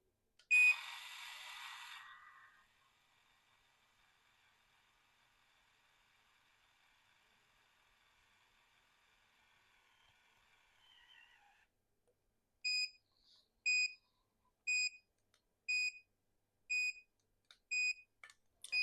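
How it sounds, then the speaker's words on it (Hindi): An Urbanyog automatic hair curler gives a run of short, evenly spaced electronic beeps that repeat about once a second. Earlier there is a brief burst of noise and a faint whir, and no one speaks. "कंटिन्यूअसली जो बीप होना स्टार्ट होता है ना, उसके बाद वो स्टॉप ही नहीं होता है"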